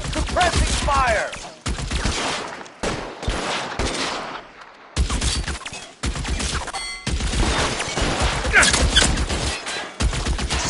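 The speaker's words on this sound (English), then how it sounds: "suppressing fire." Rapid bursts of suppressing gunfire in the video game L.A. Noire, loud and close, with repeated volleys and short gaps between them.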